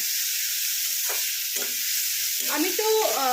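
Chilli-spiced upma ingredients fry in a pan, a dense, steady hiss of sizzling oil with a few muffled stirring scrapes, and a voice briefly speaking near the end.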